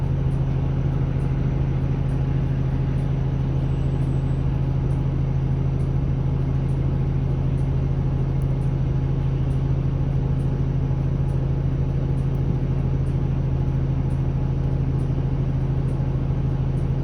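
A TTC replacement express bus pulls out into traffic between Kennedy Station and Scarborough Centre, heard from inside as a steady low engine drone and road rumble, constant and fairly loud throughout, with no talking.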